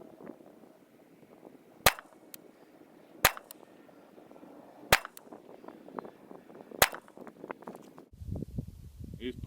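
A DPMS G2 AP4 AR-style rifle fires four sharp shots a little over a second apart outdoors. Steady wind and rustling fill the gaps, and a louder shuffle of handling noise follows at the end.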